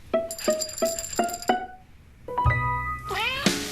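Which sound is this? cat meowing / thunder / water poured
cat meowing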